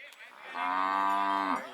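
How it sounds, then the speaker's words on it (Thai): A water buffalo calls out with a long, loud, harmonic moo at a livestock market in Lom Kao, Phetchabun, one sustained bellow of over a second close by, with no talk over it. "ควายเผือกนะท่านผู้ชม แต่ว่าลูกไม่เผือก"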